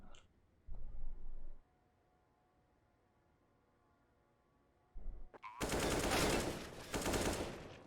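AK rifle fire in the video game Counter-Strike: one sustained automatic burst, a quiet pause, then a longer, louder burst of rapid shots with no talking.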